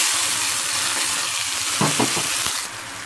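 Chutney hits a hot tempering in a pan, a steady loud sizzle and fry with a couple of brief stirring clatters near the end before the hiss settles slightly.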